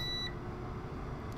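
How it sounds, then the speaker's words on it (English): UPS battery backup unit sounding its audible alarm right after its power plug is pulled to simulate an outage: a short, clear high electronic beep at the start, then only low hum. "We have an audible alarm."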